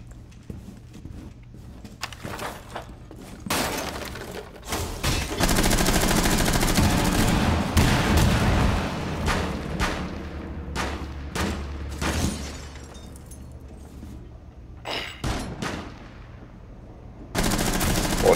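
Gunfire in Rainbow Six Siege during a team deathmatch on the Consulate map: long, loud bursts of automatic fire with heavy single shots and booms, close and intense, broken by short quieter gaps.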